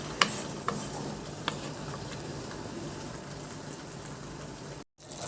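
Fatteh tomato sauce left to thicken in a pot, giving a soft, steady low sizzle and simmer, opened by a few quick metallic clicks of a utensil, near and quiet with a brief cut near the end.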